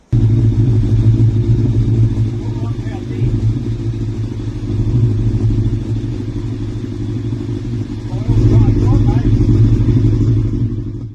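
A Suzuki Bandit 1200S MK1 motorcycle engine runs steadily close by with a deep, loud rumble, swelling briefly toward the end, with no talk over it.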